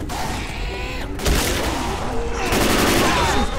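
Dense, continuous gunfire from the zombie shooter Left 4 Dead 2 roars loud and close, the bursts running together with heavier thumps mixed in.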